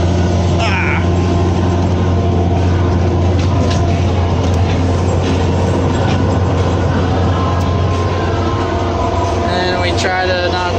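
A tractor-driven manure spreader throwing manure, running PTO-powered with a loud, steady, close mechanical drone and rumble throughout, a few brief voice sounds faintly over it.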